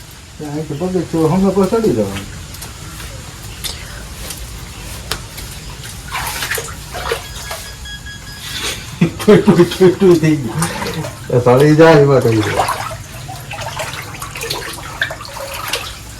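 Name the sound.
water dripping and falling inside a cave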